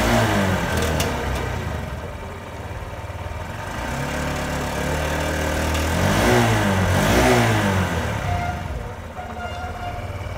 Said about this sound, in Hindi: अब आप इस बाइक के इंजन का साउंड सुनिए और इसका एग्जॉस्ट नोट भी सुनिए।